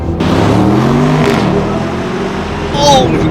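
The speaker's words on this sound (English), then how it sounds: "go into Sport Plus, stab the throttle, and bless the day at the office" Engine of a 2025 Aston Martin Vantage in Sport Plus mode, a loud sustained rev with rising and falling pitch and a throttle stab, heard from inside the car.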